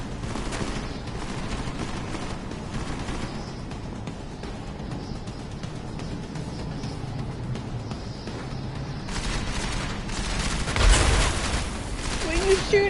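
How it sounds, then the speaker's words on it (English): Video game gunfire, a steady mid-level rattle of shots running throughout with a louder burst near the end, mixed with other game noise. "What are you shooting at?"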